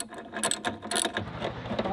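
Ratcheting clicks come in short bursts as bolts are tightened on a latch to draw its cables in, close and fairly loud, with pauses between turns.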